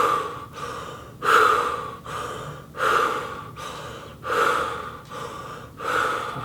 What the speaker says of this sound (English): you're going to be breathing through your mouth the whole time